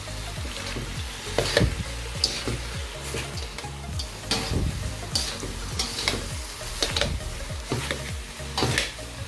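Pancit bihon ingredients with cabbage toasting in a hot wok, a steady sizzle broken by repeated scraping stirs of the spatula, close and moderately loud with no voices.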